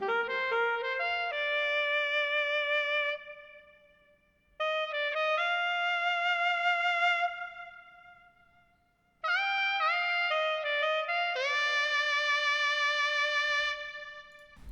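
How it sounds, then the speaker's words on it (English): A bright saxophone melody in a pop track, backed by sustained horn chords, plays in clean phrases separated by short gaps. "I've added a saxophone melody and it is being accompanied by horns"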